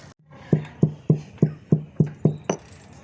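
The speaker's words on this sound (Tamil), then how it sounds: "இப்போ ஏலக்காய் அடிச்சுக்கலாம்" Eight sharp, evenly spaced pounding strikes, like a pestle crushing cardamom pods in a mortar, each a close, hard knock with a brief ringing tail.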